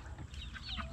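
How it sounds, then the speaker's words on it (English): Chickens cluck softly in a brief burst, a few short calls against a low background rumble. "our chickens are getting huge"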